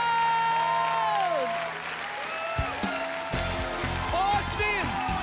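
An audience at a televised singing competition final applauds the winner, steady dense clapping with a few whoops, mixed under an excited host's voice and music.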